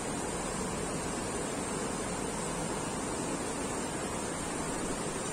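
Babbling stream heard as a steady, broad wash of flowing water, close and unchanging from start to finish, with no talking over it.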